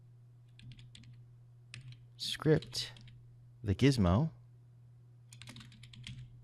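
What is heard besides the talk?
typing on a computer keyboard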